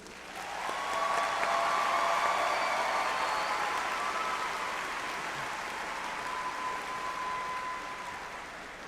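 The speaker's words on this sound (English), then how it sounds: "Please join me in extending another round of applause for our doctoral graduates." Sustained applause from a large audience at a spring university graduation ceremony, honoring doctoral graduates; a steady wash of clapping that swells early and holds for several seconds before slowly fading.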